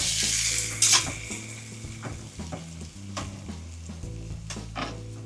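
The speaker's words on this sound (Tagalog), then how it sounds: "Hindi na ako natutuwa sa talsik ng mantika." Cooking oil sizzling steadily in a pan while frying dinner, with scattered sharp splatter pops and clinks of utensils, close and without talk.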